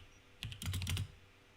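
Code is typed on a computer keyboard in a short, quiet burst of rapid keystrokes, clicking close by with no voices.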